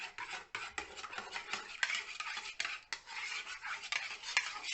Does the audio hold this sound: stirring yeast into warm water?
yes